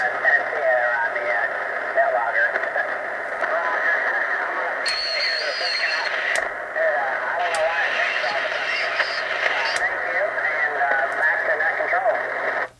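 Muffled audio from a Radio Shack shortwave radio in narrow mode, with a narrow, boxy tone, a voice coming through steadily with low background hiss and a few brief tonal blips.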